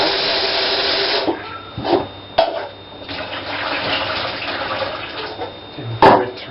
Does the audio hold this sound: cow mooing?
no